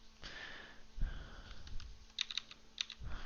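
Computer keyboard keys tapped while working in Blender, a few faint sharp clicks spaced irregularly over quiet room noise and soft breathing, with no speech.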